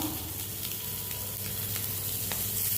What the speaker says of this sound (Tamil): இப்போ நான் ஃபிஷ் பீசஸை இதில் வைக்கிறேன்